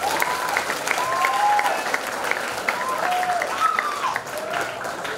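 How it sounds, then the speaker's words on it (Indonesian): Applause from an audience at a school Maulid Nabi celebration at SMK Telkom Banjarbaru, steady dense clapping sustained throughout with a few higher whistle-like tones and background voices mixed in. "Silahkan tepuk tangan dengan bangga untuk mereka."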